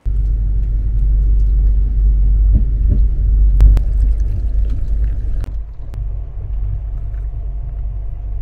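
Steady low rumble of the Sealdah Rajdhani Express (12314) running, heard from inside an AC 2 Tier coach, with continuous heavy low-end drone and a few brief sharp clicks midway.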